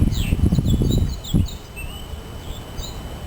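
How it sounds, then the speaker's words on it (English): Birds sing and chirp outdoors in short, high, bright calls scattered throughout, mixed with some low rumbling and handling noise at the start, with no talking. "Can you hear the birds?"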